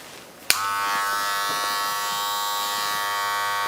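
An electric hair trimmer with no guard snaps on at about half a second and then hums steadily and loudly up close while cutting hair for a mullet, with no talking.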